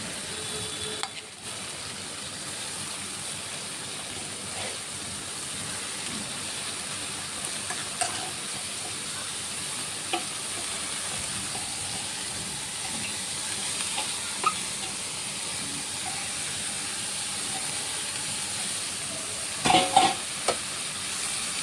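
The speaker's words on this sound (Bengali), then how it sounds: "মশলা কষানো হয়ে গেছে, এখন বাঁধাকপিটা দিয়ে দেব।" Cabbage greens being stirred and fried in a pan with spices, a steady sizzle and hiss throughout with occasional scraping clinks of the spatula, louder bursts near the end, no talking.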